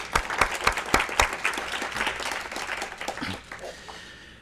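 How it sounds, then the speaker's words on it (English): Applause from a symposium audience at an awards moment, sharp individual claps standing out early then settling into a steady wash that fades toward the end. "let's hear a round of applause."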